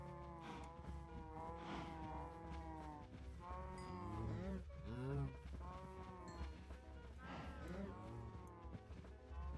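Minecraft cows moo repeatedly in a loose, overlapping series, the game's animal calls clear and fairly close with a low ambient hum beneath.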